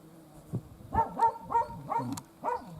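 Several dogs barking at a village house, a close series of about six loud woofs and yelps in an uneven rhythm, with no talking.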